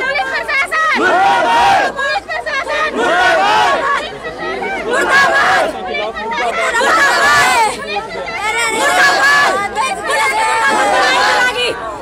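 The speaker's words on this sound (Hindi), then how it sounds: "तमाम परिजन किस तरह से जमकर नारेबाजी करते हुए नजर आ रहे हैं" Grieving family members of an assault victim chant loud protest slogans against the police in a continuous crowd, voices rising and falling in repeated rhythmic bursts over general hubbub.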